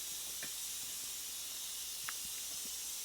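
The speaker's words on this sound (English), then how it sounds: "the hiss of the escaping steam" Steam escapes in a continuous, even hiss from a pot while a whole lobster cooks, a steady airy sound holding throughout with a few faint clicks and taps in the background and no voices.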